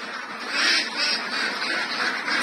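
Eight- to nine-month-old laying ducks (itik) at a poultry pen quack in a steady, overlapping chorus close by, the calls rising and falling without pause and no talking over them.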